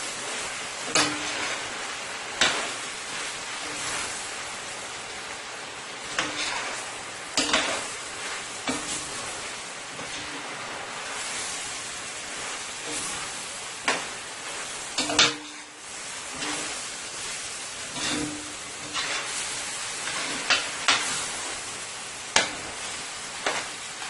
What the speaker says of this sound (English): and my cabbage. I'm going to toss it around for a minute